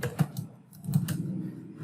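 Typing on a computer keyboard while entering a SQLite database path: a brief run of close, clicky keystrokes in quick irregular succession, with no talking.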